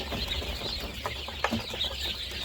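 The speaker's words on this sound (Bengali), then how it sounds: "এই হচ্ছে আমার কোয়েল পাখিগুলা এগুলার বয়স হচ্ছে আজকে একুশ দিন" Twenty-one-day-old quail chicks in a cage give off soft, scattered chirps and cheeps over a steady low hum, with a few sharper calls standing out.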